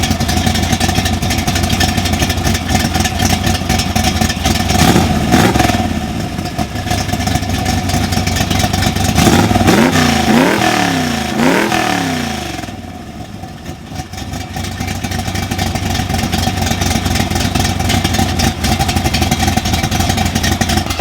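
A 1965 AC Shelby Cobra with a cammed engine idles with a choppy rumble, then its exhaust rises in several sharp, loud revs and drops back to a steady, lumpy idle, close by and with no talk.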